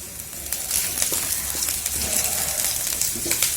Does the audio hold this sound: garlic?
yes